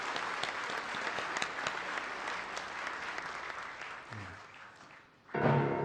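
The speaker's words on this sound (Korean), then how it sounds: "영광의 박수 올리겠습니다" Applause from the audience at the 54th National Prayer Breakfast in Korea, a sustained crowd clapping that gradually fades, followed by a brief louder burst of other sound at the end.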